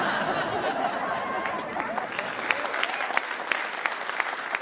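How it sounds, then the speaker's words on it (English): An audience breaks into applause at a comedy reaction set, steady clapping mixed with some chatter and light laughter, with a few sharper individual claps standing out near the end. "I don't think that earned an applause break"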